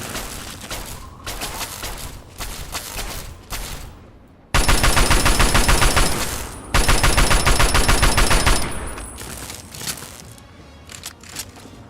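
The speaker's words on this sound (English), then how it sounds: "Is he having a shootout with someone else now?" A gunfight in Fallout 3, loud automatic gunfire in rapid sustained bursts with a brief pause partway through, then continued heavy shooting that thins into scattered shots.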